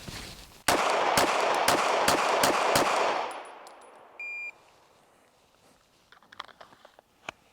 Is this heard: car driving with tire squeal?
no